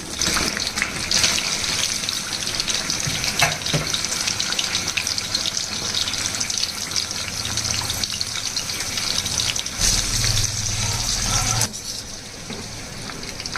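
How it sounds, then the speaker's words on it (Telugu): Flat beans are dropped a few at a time into about half a litre of hot peanut oil for a pickle, producing a loud, close, steady frying hiss that swells in bursts and eases near the end, with no speech. "కొంచెం కొంచెంగా చిక్కుడుకాయలు వేసుకుంటూ వేగించాలి"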